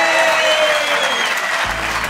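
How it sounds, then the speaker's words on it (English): A live theatre audience at Leicester Square Theatre breaks into loud, sustained applause for a comedy podcast guest, with a voice briefly audible beneath the dense clapping. "please give a massive round of applause to Al Murray!"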